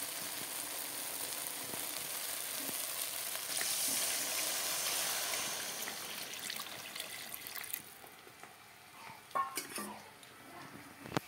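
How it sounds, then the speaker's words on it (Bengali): Broth poured into a pan of sizzling fish curry masala with tomato, a loud frying hiss that softens into bubbling and clinks of a utensil against the pan near the end. "এখন ঝোল দিয়ে দেব।"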